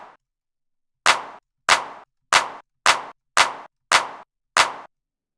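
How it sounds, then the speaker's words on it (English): Seven dry synthesized claps built from white noise in the Serum synthesizer strike at an even, steady pace, each a sharp snap with a short decay, heard alone against silence after a faint tail at the start. "So let's quickly have a look at this clap."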